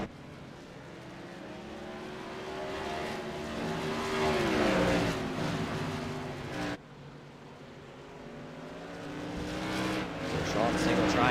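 Modified race cars at Thompson Speedway roar past side by side in a steady, loud engine drone that swells and fades as they go, with a commentator talking over the noise throughout.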